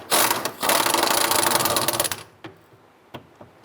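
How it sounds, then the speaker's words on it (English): A pneumatic impact wrench zips out the 15mm forward strap bolts on a 2005-2007 Jeep Liberty during a fuel pump job, with a short burst, then a longer sustained rattling run, followed by a few faint clicks. "Using a 15mm socket, extension, and impact, we're going to go ahead and remove the forward mounted strap bolts."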